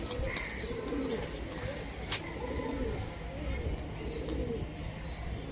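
Rajshahi tumbler pigeons coo softly in repeated low phrases, mixed with occasional chirps and sharp clicks over a faint outdoor hum, with a voice talking nearby.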